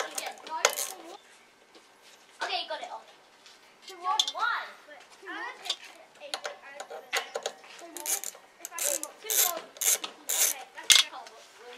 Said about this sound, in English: First thing I'm going to do is just remove these two threads, and I'm just using a little H5.